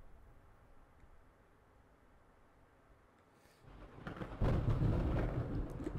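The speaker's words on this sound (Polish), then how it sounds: "Burza!" Thunder rumbles and rain pour down in the video game Cat Goes Fishing, a quiet noisy hiss building after a few seconds into a loud, sustained roaring storm crash.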